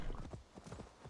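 Horse hooves clip-clopping in the video game Assassin's Creed Valhalla, a quick run of soft, rhythmic thuds lasting about a second, fairly faint with no voice over them.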